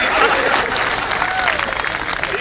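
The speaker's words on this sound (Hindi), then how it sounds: "अब तक जितनी तालियां आपने पूरे काबे पार्ट में नहीं बजाई थी, इस बात में बजा दी" Audience applause at a Hindi comedy poetry show, a crowd clapping steadily and loudly throughout, with some murmuring from the room underneath.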